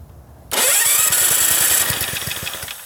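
A vintage 1965 Ariens snowblower engine catches after a quiet start, then runs loud and close with a rapid, steady firing rhythm that falters slightly toward the end.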